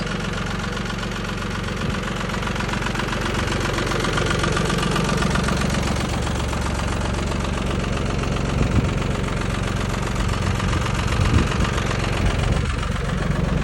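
A Jinma 40 tractor engine idles steadily at close range, a continuous low chugging rumble with faint knocking, no voices.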